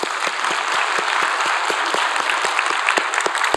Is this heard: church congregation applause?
yes